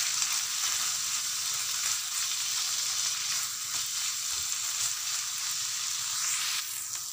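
Crushed vegetable stalks fry in oil in a pan, a dense, even sizzling hiss that holds steady throughout with a few soft stirring scrapes and no talking.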